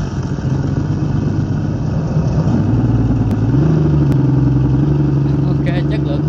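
An electronic exhaust fitted to a motorcycle plays a synthetic four-cylinder engine sound, a loud steady droning tone that steps up in pitch partway through, as if revving, with a voice talking over it.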